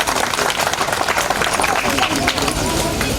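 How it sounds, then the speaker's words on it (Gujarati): Audience applause at a school gathering honoring a former top-ranked student, a dense, steady wash of many hands clapping, loud and close, with crowd murmur underneath throughout. "એટલે એના માટે પણ આપણે એક તાળીઓ પાડી."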